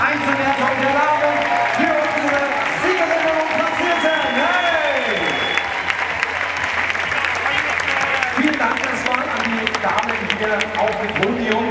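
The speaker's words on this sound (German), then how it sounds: "Und jetzt nochmal ein tosender Applaus für unseren Einzelwertung der Lage." A stadium crowd applauds during the Stadium Run award ceremony in Dresden's Heinz-Steyer-Stadion, with steady clapping throughout under an announcer speaking German over a loudspeaker.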